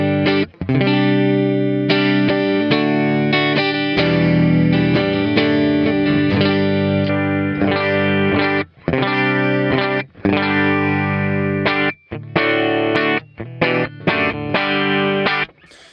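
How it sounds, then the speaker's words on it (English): An electric guitar plays through a Valeton GP-5 amp model, giving a thick, heavily distorted tone with chorus. Sustained chords ring out, then are cut by short palm-muted stops and gaps. "here's how the amp sounds. This is one of my favorite sounds in the Valeton."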